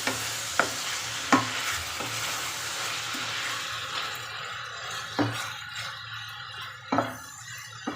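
Prawns cook in a pan with their water boiling off, a continuous sizzle and bubbling broken by several sharp scrapes and knocks of a spatula against the pan, the frying growing softer toward the end.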